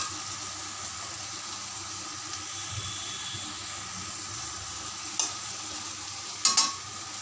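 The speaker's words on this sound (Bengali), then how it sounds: "এখন আমি কড়াইয়ের মধ্যে পেঁয়াজটা দিয়ে দিয়েছি, পেঁয়াজটা ভালো করে লাল লাল করে ভাজা করে" Onions fry in a wok with a soft, steady sizzle, joined by a few sharp scraping clinks of a utensil near the end.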